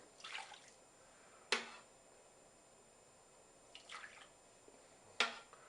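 Milk ladled into a pan for homemade oven yogurt: a few soft, separate wet splashes and drips, quiet and close, with pauses between each pour and no talking.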